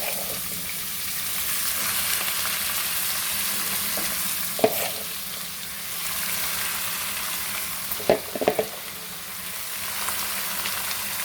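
Spinach frying in oil with a pinch of asafoetida, a steady close hiss of sizzling with a few short stirring knocks and scrapes partway through.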